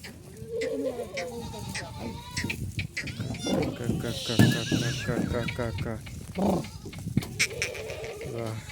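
Dairy goats bleat repeatedly in a livestock trade setting, several wavering calls rising and falling close by, while someone talks over and between them.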